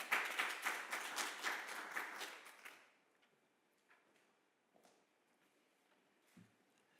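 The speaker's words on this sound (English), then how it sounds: "Please let's give her a warm round of applause as she comes up." Audience applause greets a woman coming up to speak at an academic forum on youth employability in South Africa, a loud patter of many hands for about three seconds, then fading to scattered faint taps and room noise.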